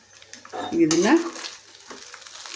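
Pepper rice stirred in a frying pan: a short burst of sizzling and scraping that swells in the middle and then settles to a softer hiss, with a brief voice-like tone over it.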